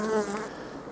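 Honeybees on a freshly cut piece of wax honeycomb give off a close, steady buzzing drone that lasts the full second with no voices.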